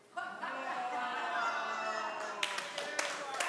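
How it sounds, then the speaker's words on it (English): An audience claps and laughs at a comedy-style talk, starting after a brief pause and building into steady applause with scattered louder claps near the end. "I'm glad you're clapping now"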